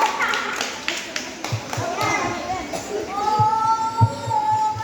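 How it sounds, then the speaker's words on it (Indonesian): Scattered clapping for a child at a Sunday children's catechism session in a church station, sparse claps mixed with children's voices and chatter rather than full applause, moderately close. "Tepuk tangan"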